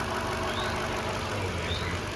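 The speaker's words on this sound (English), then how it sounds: "It is such a smooth, such a quiet engine." A 2014 Lexus GX460 SUV engine idles quietly and smoothly, a soft steady hum with a low rumble underneath and no talking.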